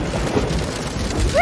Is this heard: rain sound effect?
yes